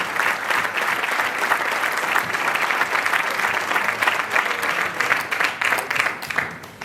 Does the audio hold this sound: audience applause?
yes